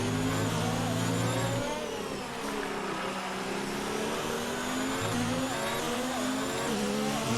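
A Ferrari Formula 1 car's engine in the F1 2019 racing game screams at high revs, its pitch sweeping up and down through gear changes under a constant roar with no pauses.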